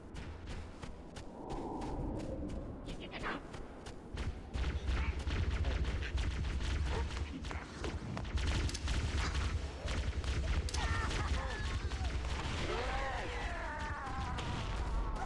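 Sustained gunfire from Halo: Combat Evolved rattles in fast, steady bursts of sharp shots, with booming impacts and whip-like zips building over a low rumble.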